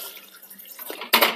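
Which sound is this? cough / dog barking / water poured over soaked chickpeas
water poured over soaked chickpeas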